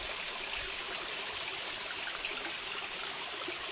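Steady, full rushing of a mountain stream flowing over rocks, constant and close, with no voices.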